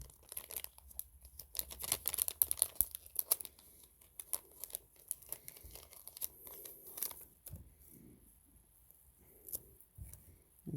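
Color Street nail polish strips being handled and cut close up, a quiet run of dense crinkling, snipping and light tearing of the packaging and strip film in irregular bursts, busiest early then sparser, with no talking.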